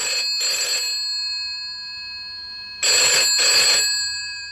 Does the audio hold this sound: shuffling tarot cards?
no